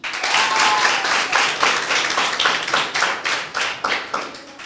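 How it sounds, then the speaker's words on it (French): Close, vigorous clapping from an audience at a school event applauding the president, a dense patter of hands with rhythmic surges throughout and no voices. "Applaudissez pour lui."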